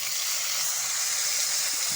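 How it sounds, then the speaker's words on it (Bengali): Small shrimp rubbed with salt and turmeric fry in hot oil, a loud, even, continuous hiss of sizzling that holds steady throughout with no voices. "এখন আমি চিংড়ি মাছগুলো ভেজে নেব।"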